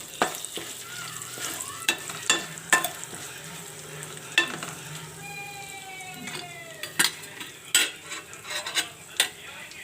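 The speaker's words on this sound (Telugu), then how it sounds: "పోపు వేగిపోయిందండి" Tempering spices for drumstick-leaf dal sizzle softly in hot oil while a spoon stirs and scrapes against the pan, with sharp metallic clinks at irregular intervals.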